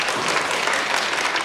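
An audience applauds steadily, a dense and even clapping that fills the whole short stretch with no talk over it.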